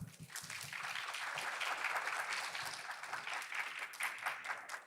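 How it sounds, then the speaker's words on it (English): A conference audience in an art hall breaks into a continuous round of applause, fairly faint and even, swelling slightly in the middle before thinning toward the end. "Ladies and gentlemen, let's give them another big round of applause."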